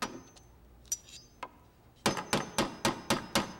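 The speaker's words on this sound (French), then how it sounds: "Est-ce que c'était le bruit de mon marteau?" A hammer striking in a workshop, first a few scattered light taps, then a run of six sharp, evenly spaced blows close by, each ringing briefly.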